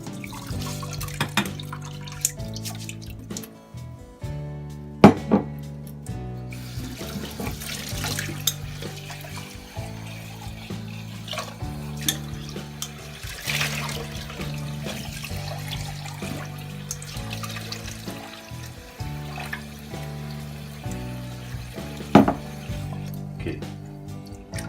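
Basmati rice rinsed under a running tap, a steady close stream of water with splashes and occasional louder sloshes, over quiet background music and no speech.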